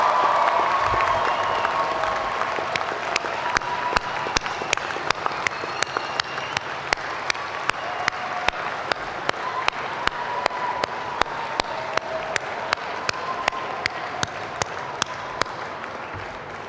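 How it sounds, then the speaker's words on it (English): Sustained audience applause fills a large hall at a 2014 business school commencement ceremony, a dense steady wash of many hands clapping that fades slightly over time and continues without talk. "join me in giving your family and friends a round of applause for what they've done for you."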